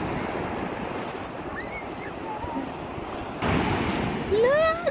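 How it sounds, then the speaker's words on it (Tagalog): Large ocean waves break on the shore at Noja, Cantabria, a continuous roaring surf with heavy wind buffeting the microphone, swelling louder near the end, with a voice briefly exclaiming over it. "Sobrang laki ng alon."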